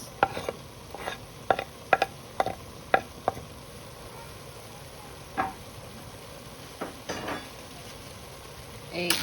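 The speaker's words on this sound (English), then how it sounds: "I'm going to add about 1 cup of onions" Onions tumble into a soup pot and start to sizzle, heard as a soft continuous frying hiss under a run of sharp stirring knocks and clinks that thin out and then return, close by with no talking.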